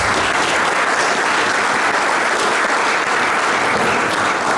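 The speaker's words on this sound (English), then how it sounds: "So applause for all of you as well." Steady applause from an audience at a club gathering, dense and continuous throughout with no voices standing out.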